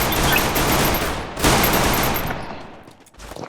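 Rapid bursts of gunfire from the Free Fire video game, two dense automatic volleys separated by a short gap, loud and close, then cutting off abruptly with no talk over them.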